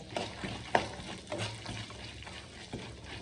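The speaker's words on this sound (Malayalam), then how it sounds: "എല്ലാം കൂടെ നന്നായിട്ട് ഫ്രൈ ആവണം." Peanuts frying in a pan with chana dal for puliyogare rice, a soft steady sizzle with light scraping stirs, close and alone without talk.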